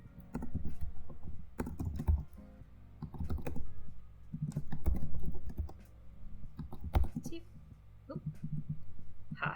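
Fast keyboard typing with cold fingers while working on a 3D hair model, clicking in bursts of keystrokes separated by short pauses, close and clear, with a voice talking over parts of it.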